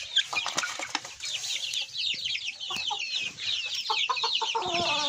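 Several chickens cluck and chatter nearby in an overlapping, continuous flock chorus, with some fluttering and scratching beneath.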